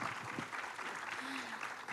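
Brief applause from a youth volunteer forum audience, a dense patter of clapping heard somewhat faintly and held at steady loudness.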